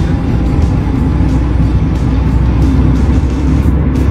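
A manual car engine runs under load while shifting up through second and third gear, a loud, steady low rumble heard from inside the cabin with little change in pitch.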